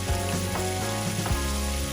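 Seasoning and chili hit a hot pan of aubergine stew and sizzle steadily, a close, continuous frying hiss with a few soft stirring knocks and no talk.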